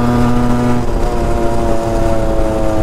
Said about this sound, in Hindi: ये देखो ये इसका थ्रॉटल रिस्पॉन्स है